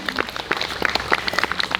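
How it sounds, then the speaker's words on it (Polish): Applause at a regional folk-band festival in Poland. Individual claps are close and distinct, falling in a brisk, uneven patter. "więc gorące brawa"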